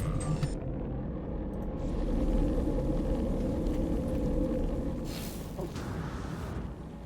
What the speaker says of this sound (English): Incoming storm.